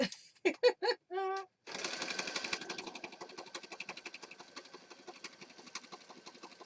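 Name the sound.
sewing machine sewing lace onto a junk journal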